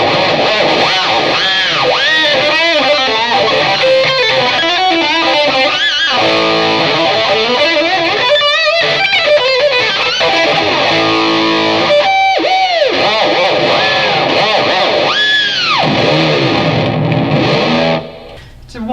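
An electric guitar plays through a Hughes Kettner Grand Meister 36 tube amp set to 1 watt, a distorted, effects-laden run of chords and bent notes held steady and fairly loud throughout, cutting off near the end.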